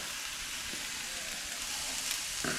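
Hot olive oil sizzling in a pan on a stove at medium heat, a soft, even hiss heard alone at low level with a faint clatter at the end.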